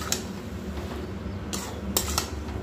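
Cabbage mixed with ghee is scraped and moved into a pot, giving a soft background rustle broken by a few sharp metallic clinks and taps of a utensil against cookware.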